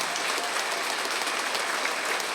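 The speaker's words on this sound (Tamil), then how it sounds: "இந்த மாதிரி பொதுவான கைத்தட்டலாக இருக்கக்கூடாது." An audience claps at a spiritual astrology book launch ceremony, a dense, steady roar of many hands from a large crowd, loud and continuous throughout.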